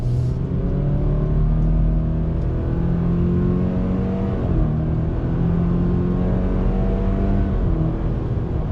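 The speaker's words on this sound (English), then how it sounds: "I'm going to get on the loud pedal to show you the acceleration once again on throttle." 2020 Subaru Outback with a CVT accelerating hard on throttle, engine note climbing in smooth steady steps over a loud continuous rumble, heard close from inside the car with no talking.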